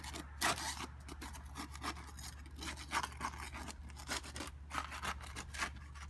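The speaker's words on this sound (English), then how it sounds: "So I get the putty knife underneath, and I have to break all the glue loose." A putty knife works under a roof shingle to break the glue loose, giving soft, repeated scraping and rasping strokes at close range over a low steady hum, quiet overall and without speech.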